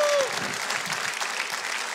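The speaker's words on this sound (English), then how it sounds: "Let's give her a big hand of applause." Studio audience applause welcoming back an aerial violinist on a television show, a full, steady roar of many hands clapping that begins as a voice ends, with faint crowd noise mixed in.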